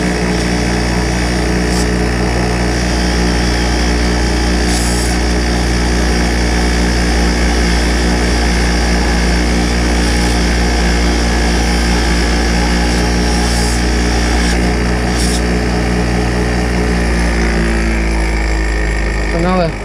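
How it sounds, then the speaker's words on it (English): Steel brake line fitting held against a running bench grinder, a loud steady motor drone and whine throughout with faint intermittent contact scrapes. "then I put it on the grinder."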